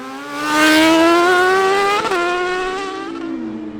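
A 1000cc Kazmat cross kart races at Pallas Karting in Tynagh, its engine screaming loud and close with a high, steady whine that holds, dips briefly, then fades slightly as it pulls away.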